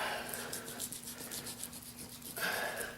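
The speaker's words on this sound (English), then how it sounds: "And I'm just going to trim this off right here." A knife trims fat off a pork cut for pressure-cooker pulled pork, heard as a soft, steady rubbing and scraping close by, with no talking.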